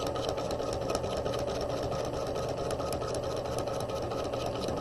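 Sewing machine stitching up the side seam of a quarter zip jacket, a continuous, fairly loud rapid motor hum with fine rhythmic needle clatter running steadily throughout.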